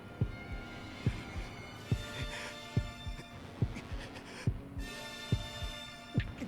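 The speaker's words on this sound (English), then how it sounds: "I love the heartbeat here." Steady heartbeat sound effect from a One Piece anime episode, with regular double-thump pulses about once every 0.7 seconds over a low hum, and no talk.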